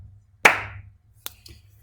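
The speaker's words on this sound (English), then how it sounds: "So that's got to get the golf clap" Sparse golf clapping: one sharp, close clap, then two softer, scattered claps after a pause, with no voices.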